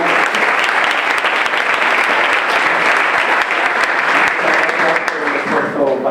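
Loud, dense applause from a congress audience fills the room, a sustained roar of many clapping hands that eases slightly toward the end.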